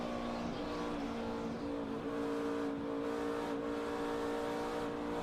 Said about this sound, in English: You hear Jeff Burton feather the throttle.